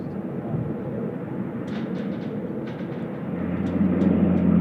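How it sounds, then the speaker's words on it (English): A former QantasLink Q200 turboprop, now all white and flying for Skytrans, rumbles steadily at Sydney Airport on a high-wind day, its engine drone building slightly louder toward the end. "Here is the former Qantas Link Q200, one of 3. Now all white, operating for Skytrans now"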